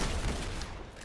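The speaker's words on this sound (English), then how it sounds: "What did I get? Rocket launcher." Rocket launcher fire in the Roblox game Arsenal: a dense, loud burst of low booming blast noise filling the whole moment, with no talking.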